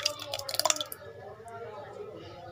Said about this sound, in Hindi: अब हम इसमें डालते हैं 1 पाव दही